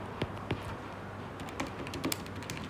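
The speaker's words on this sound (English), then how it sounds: "I'm just typing these out so I don't get them wrong." Scattered keystrokes tap on a computer keyboard, a few isolated clicks early, then a quicker cluster of typing near the end.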